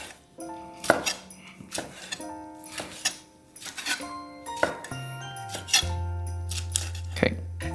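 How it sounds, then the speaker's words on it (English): Cooked lobster being roughly chopped on a board: a series of knife thuds and clinks at an uneven pace, close and moderately loud, with a steady tonal hum toward the end and no speech. "Okay, so rough chop."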